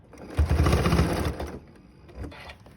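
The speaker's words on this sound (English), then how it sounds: "Go sewing down to the middle of this seam here again." A sewing machine stitches the seam of a fabric bowl cozy in one rapid, buzzing burst of just over a second, close and fairly loud, before it slows to a stop amid quiet handling sounds.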